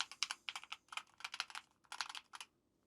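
Key presses on a Keychron K10 HE keyboard's arrow keys, a quiet run of about a dozen soft, close clicks in uneven bursts that fade into near silence at the end.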